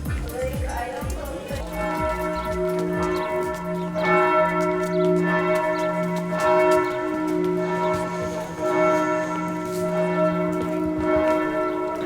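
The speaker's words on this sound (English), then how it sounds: "where we were greeted from loud bells." Loud church bells of Gethsemane Church in Berlin ring out in a sustained, overlapping peal, their long tones hanging in the air for the full span with steady strokes.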